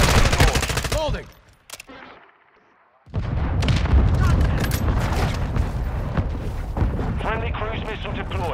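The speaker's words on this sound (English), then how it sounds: "Friendly mortar strike on the way." Friendly mortar strike in Modern Warfare II, a team deathmatch on Mercado Las Almas, with loud rumbling explosions and rapid gunfire, a brief near-silent lull, then dense blasts and voice chatter throughout.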